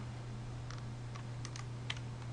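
Computer keyboard keys are pressed in a few quick, light clicks over a steady background hum, close and faint.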